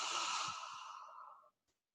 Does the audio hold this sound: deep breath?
yes